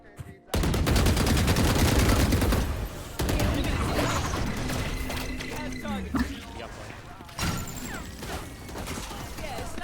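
Gunfire in the Valorant tactical shooter, with loud dense bursts of shots and clattering weapon sounds filling most of the stretch under game noise, interrupted by short pauses and a few sharper cracks.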